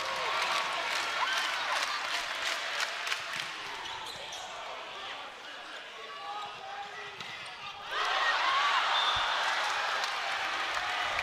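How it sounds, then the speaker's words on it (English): A crowd cheers in the arena at an NCAA men's volleyball match between UCLA and UC San Diego, with ball thuds amid the noise and a louder surge of cheering near the end. "Just listen to that crowd."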